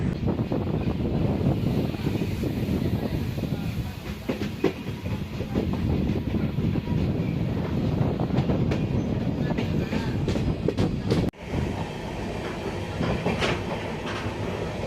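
The Cholan Express, a daytime passenger train, rumbling steadily along the tracks with a rhythmic clickety-clack and wind buffeting, heard from inside, loud and continuous.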